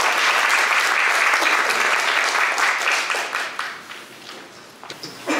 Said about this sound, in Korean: 여러분의 박수로 교수님을 환영해주세요.